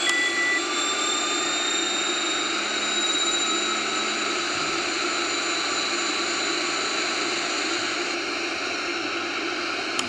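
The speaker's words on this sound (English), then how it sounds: "First, you want to go to your engines and start them up." Airliner engines running in Real Flight Simulator, a loud, steady jet roar with a high whine and broadband rush that holds constant throughout, with no talk over it.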